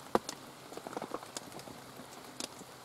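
Light rain patters softly on the ground and on leaves outdoors, with scattered faint drips and no voices.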